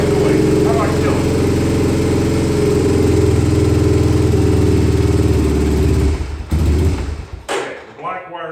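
An ATV four-wheeler engine starting and idling loudly with a steady mid-pitched drone and thumping, then cutting out abruptly near the end, followed by a brief sputter.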